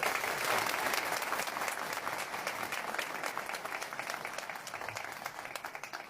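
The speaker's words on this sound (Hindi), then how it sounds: "दोनों जजेस के लिए पहले तालियां मिले आपसे।" Crowd applause for two judges at a political speech gathering in Denmark, a loud, sustained roar of many people clapping that stays dense throughout and tapers slightly toward the end.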